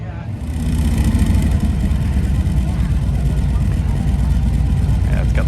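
Harley-Davidson bagger motorcycles at a demo day, engines running loud and steady with a deep low rumble throughout, rising slightly as they pull out, with people talking nearby.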